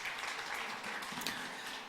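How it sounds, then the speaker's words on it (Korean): A church congregation at a Sunday afternoon service claps for four speakers, a soft, brief patter of mixed applause heard from some distance. "우리 4분께 우리 박수 한번 주세요"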